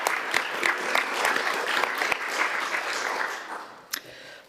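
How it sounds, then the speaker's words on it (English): A short round of applause in a county council chamber, with many hands clapping steadily before fading out, and a single louder clap near the end. "So I'd like to give just a quick clap for any of those people involved."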